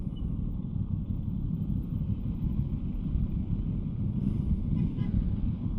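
Aprilia RS 660 motorcycle riding at low revs, its engine a steady low rumble mixed with wind buffeting, continuous and fairly loud throughout without a clear shift or rev change.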